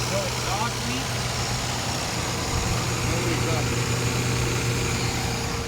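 A 1960 Austin-Healey 3000 engine idles smoothly and evenly with a low steady hum and rumble, close by, while people talk over it throughout.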